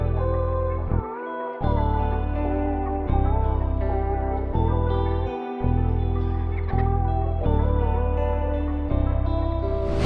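Sad guitar sample built in FL Studio with added texture effects, plucked melodic chords looping in steady sections with brief gaps, warm and clear with no voices.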